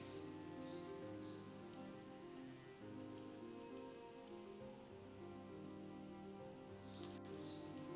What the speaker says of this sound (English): Those birds, eh?